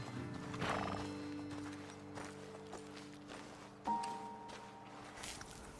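Horses whinny and hooves thud in Red Dead Redemption at a dismount spot on a ledge above a road, moderately faint against background music, with one sharper neigh-like burst near the end.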